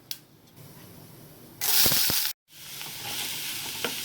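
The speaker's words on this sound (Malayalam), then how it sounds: "സവാള നന്നായി ഒന്ന് വഴറ്റി കൊടുക്കാം" Loud sizzling of two sliced medium onions frying in hot oil, a bright hiss that swells in the middle, cuts out briefly, then returns steady with faint stirring clicks.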